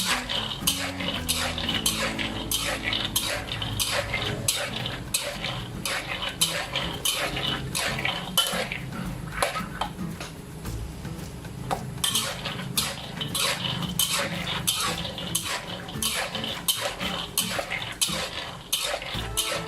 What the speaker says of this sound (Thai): คนไปเรื่อยจนกระทั่ง ถั่วเปลี่ยนสีนะครับใช้เวลาไม่นานนะครับ